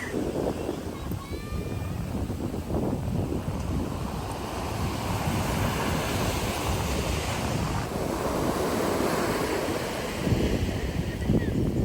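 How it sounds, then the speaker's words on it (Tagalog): Ocean waves break on a beach shore in a continuous, moderately loud wash, with wind buffeting the microphone throughout. "Ganda ng waves."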